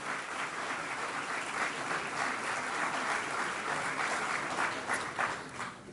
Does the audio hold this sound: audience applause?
yes